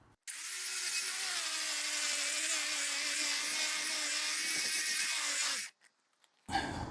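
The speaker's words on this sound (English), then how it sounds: "this is a 6-inch carborundum snag wheel. I mean, that's a man-made, very abrasive stone, just for doing rough work like this" A handheld angle grinder fitted with a 6-inch carborundum snag wheel grinds a metal bar in one long, loud, steady high-pitched whine for about five seconds, then cuts off abruptly, followed by brief quiet and a last short noise.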